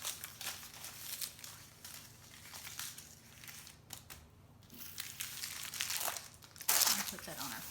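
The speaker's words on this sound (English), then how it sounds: "I'm going to take and transfer this over onto this sheet of parchment" A sheet of parchment paper is handled while moving braided ham and Swiss loaf dough onto it, giving soft crinkling and crumpling rustles near and fairly quiet, with a few sharper crackles near the end.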